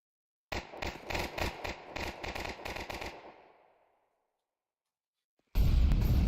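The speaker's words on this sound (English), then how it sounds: "look at that bombardment on the upper bomb site" A rapid string of explosive grenade blasts hits a bomb site in a shooter video game, loud and rhythmic for about three seconds before fading into a decaying rumble. After a silent gap, a loud burst of noise returns.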